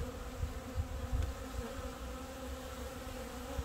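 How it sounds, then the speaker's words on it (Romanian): Honeybees drone inside an opened hive, a close, continuous buzzing hum that swells and dips slightly as bees move about, with no talking. "Observați albinuțele."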